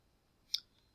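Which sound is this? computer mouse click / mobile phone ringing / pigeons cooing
computer mouse click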